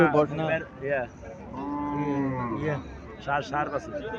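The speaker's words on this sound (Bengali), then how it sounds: "এখানে একটা গাভি দেখা যাচ্ছে সাইওয়াল জাতের গাভি।" A Sahiwal cow moos repeatedly at a busy cattle market, with long drawn-out lowing calls over steady crowd noise.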